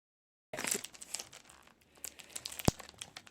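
Paper pack from The Paper Studio being handled, giving dry crinkling and rustling at close range with a sharp crackle near the end, no talking.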